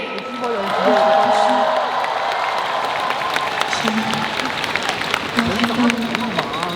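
A concert audience at the Hong Kong Coliseum applauds and cheers, with a voice talking over the clapping.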